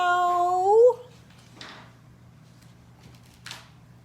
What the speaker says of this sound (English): Suddenly, there was a loud meow.